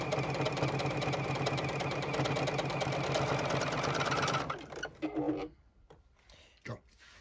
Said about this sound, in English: Now I've sewn all the way around with that with my seam allowance